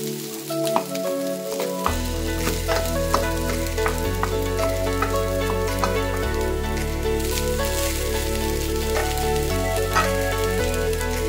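Rice stir-fries with carrot and capsicum in a hot pan, giving a loud, continuous sizzle with tossing and scraping clatter, and a low steady hum from a stove or hood runs underneath.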